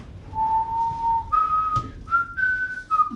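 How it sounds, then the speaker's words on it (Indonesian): A person whistles a short tune inside a stalled elevator, clear and close, with a few sustained notes stepping upward in pitch and faint background noise. "Kenapa kamu bersiul kalau tidak ada kerjaan?"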